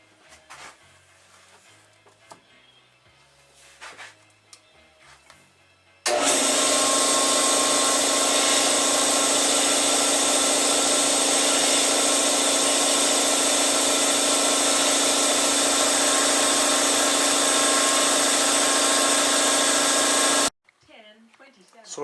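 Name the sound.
air compressor running during engine rebuild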